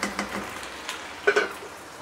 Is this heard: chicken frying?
yes